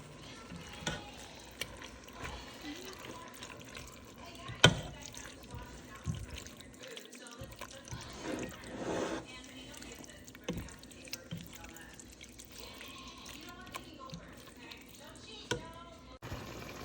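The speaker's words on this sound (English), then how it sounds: "Don't forget to add water in your jars and get all the sauce out." Tap water runs and splashes into glass sauce jars at a kitchen sink while cooking a cheesy ravioli lasagna, a steady close trickle with brief drips and clinks, speech heard intermittently over it.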